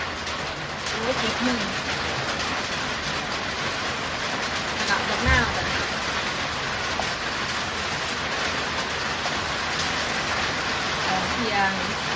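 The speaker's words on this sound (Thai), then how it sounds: "ฝนตกอล้วจ้ะ" Rain falls steadily as a continuous broadband hiss throughout, with pigeons or doves cooing now and then and voices talking over it.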